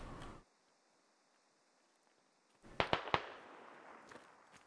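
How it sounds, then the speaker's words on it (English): Distant gunfire in the game Squad: a short burst of three or four sharp cracks after a near-silent stretch, followed by a lingering rumble of reverb. "Shots fired."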